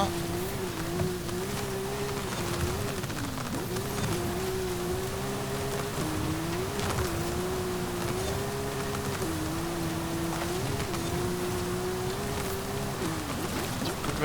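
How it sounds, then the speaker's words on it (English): A 1973 Hoonigan Volkswagen Baja Beetle in an offroad driving game drones with a steady engine tone that rises and dips with throttle, under a dense noisy wash, continuous for several seconds. "Good rate of speed there, 60 miles an hour before we had to slam on the brakes."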